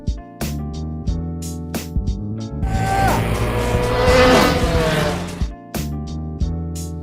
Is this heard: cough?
no